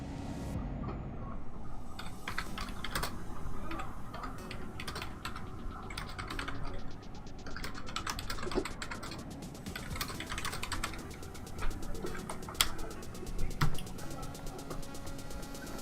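Rapid computer keyboard typing clatters on and off for the whole stretch, close and fairly steady, with occasional louder key strikes and a low background hum beneath.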